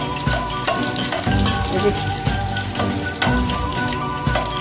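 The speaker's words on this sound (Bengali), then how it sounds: "শুকনো লঙ্কা ভাজা ভাজা হয়ে গেছে" Dried red chillies crackling in hot oil for khichuri, a busy sizzle with sharp spattering pops at irregular intervals, close by, with no speech over it.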